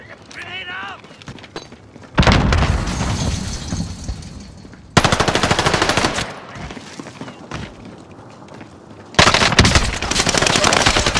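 Rapid automatic gunfire from Call of Duty: Modern Warfare, loud and close, comes in three dense bursts that break off abruptly, with quieter game sounds and muffled voice-like chatter in the gaps between them.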